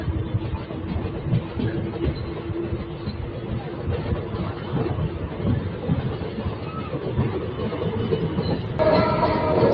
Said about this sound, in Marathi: सांगली रेल्वे स्टेशनच्या आता आउटरमधून गाडी बाहेर जात आहे